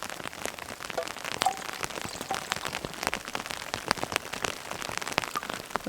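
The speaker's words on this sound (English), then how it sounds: "I'm already all wet because it's raining." Rain falls steadily on the trail at Mount Laguna, a dense patter of close droplets with sharper individual taps striking nearby surfaces, with no talking.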